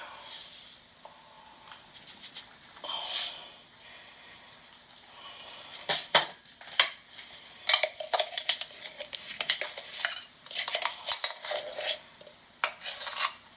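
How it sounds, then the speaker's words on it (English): Flour and salt go into a mixing bowl in a home kitchen, with a long run of close clinks, taps and scrapes of utensils against the bowl, irregular and fairly quiet. "I'm going to add the 2 cups of flour to a mixing bowl."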